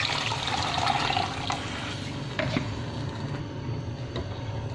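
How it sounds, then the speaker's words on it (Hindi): Water is poured from glasses into a cooking pot of masala with a yogurt, gram flour and green chili paste, making a steady, moderate splashing and gurgling that tapers off, with no voices. "और साथ ही 2 गिलास पानी शामिल कर लेंगे।"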